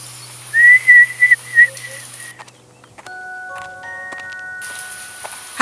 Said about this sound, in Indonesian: mendengar siulan yang merdu